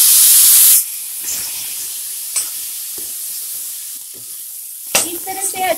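Lemon juice poured into hot green chilli pickle masala in a pan gives a loud burst of sizzling hiss for under a second, then a softer steady sizzle with occasional stirring clinks.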